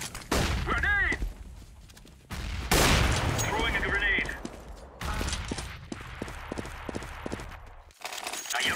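An AWP sniper rifle fires in a video game, its sharp, heavy shots booming across consecutive rounds amid other game sounds and talking.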